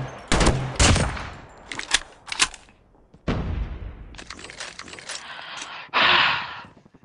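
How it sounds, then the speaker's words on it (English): Bursts of automatic gunfire and single cracking shots ring out in the COD Mobile video game, coming in rapid clusters separated by short gaps, loud and close. "somebody's shooting over here"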